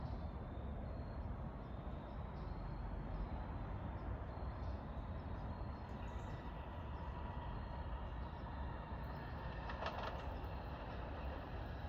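A New Jersey commuter train from New York to Dover passes Mountain Station at dusk in autumn. The steady, broad rumble of rolling cars holds for the whole stretch, with faint higher rail squeals near the end.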